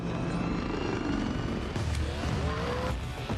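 In an action movie scene, a helicopter struggles against vehicles attached to it. Its steady rotor drone sits under roaring engines and tire noise, a dense and continuous mix at a fairly even level.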